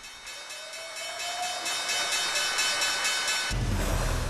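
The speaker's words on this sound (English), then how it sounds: "as you can hear, the closing bell is ringing" A loud, continuous electric bell rings in a steady rapid clatter, growing stronger, with a low rumble swelling in near the end.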